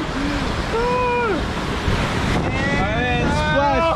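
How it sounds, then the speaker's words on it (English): Water rushes and splashes around a log flume boat at Knott's Berry Farm, a steady loud wash of spray beneath riders' rising shrieks and excited voices. "And splash!"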